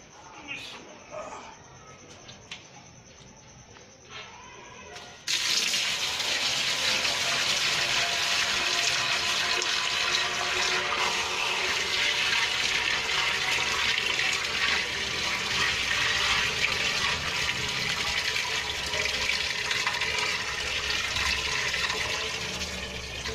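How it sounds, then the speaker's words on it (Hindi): Water gushing steadily from a bucket of about 10–15 litres into a drum used for making cumin extract, a loud continuous pour that begins abruptly after a few seconds of quieter sounds and runs to the end. "और इहदे विच हुण असीं पानी पाने आ।"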